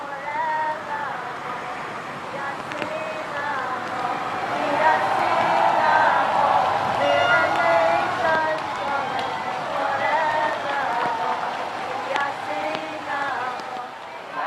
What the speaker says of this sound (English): And you can hear them singing,